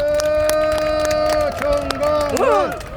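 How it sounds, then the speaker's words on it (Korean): Crowd applause and cheering fill a press conference in Busan, with steady claps and raised voices over a sustained tone, continuous for about three seconds. "박수 부탁드립니다."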